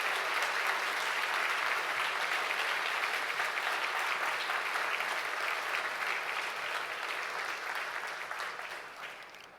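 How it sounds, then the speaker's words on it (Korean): Sustained applause from a seated audience at a university presidential inauguration ceremony fills the hall, a dense steady patter of many hands that gradually thins and fades near the end. "귀한 헌신해 주신 최도성 총장님께 큰 박수 부탁드리겠습니다"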